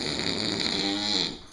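A sleeping pig snores in a steady, raspy drone, close and moderately loud, with no talking over it.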